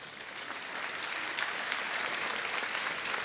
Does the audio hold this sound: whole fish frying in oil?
no